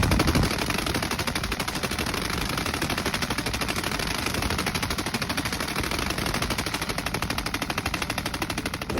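An MG3 machine gun fires during a Bundeswehr exercise: one long, unbroken burst of rapid, evenly spaced shots, loud and close throughout.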